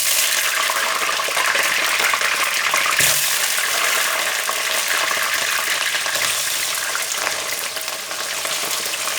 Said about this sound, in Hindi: आलू को फ्राई करेंगे।